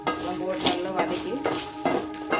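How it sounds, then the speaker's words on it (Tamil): Onion, garlic, chilli, coriander and cumin being sautéed for a Tamil fish kulambu: a steady close sizzle with repeated scraping stirs of a utensil against the pan, no voices. "போட்டு நல்லா வதக்கி"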